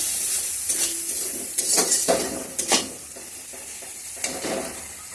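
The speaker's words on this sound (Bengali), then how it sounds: "সবগুলো ভালোভাবে মিশিয়ে চাড়া করে নিচ্ছি" Spatula scraping and clattering in a pan while spices are stirred into frying beans and eggs, several sharp metallic strokes over a soft sizzle, close up.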